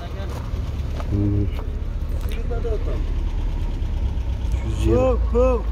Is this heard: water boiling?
no